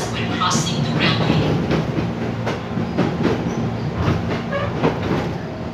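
An old KRL commuter train rumbles past nearby at the Pondok Jati railway crossing in Jakarta, rhythmic clickety-clack of wheels over rail joints, steady and loud, a voice faintly audible underneath.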